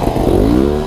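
A trials motorcycle revving hard as it climbs a hill section at a mototrials event, a loud close engine note rising in pitch over about a second.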